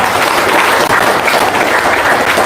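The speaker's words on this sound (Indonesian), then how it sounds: "Wow, tepuk tangan dong" Audience applause at a talk, a dense steady wash of many hands clapping at close range, even and loud throughout with no voice over it.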